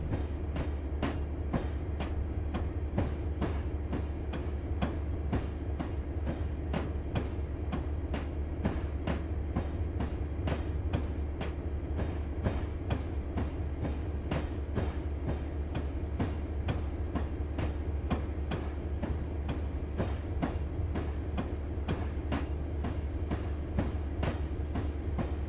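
A freight train of empty boxcars in Train Simulator 2020 rolls slowly toward a trestle, wheels clicking over rail joints in a steady, evenly spaced clack above a low continuous rumble.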